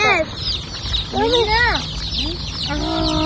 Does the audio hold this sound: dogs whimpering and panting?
no